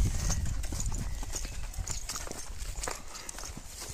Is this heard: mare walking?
yes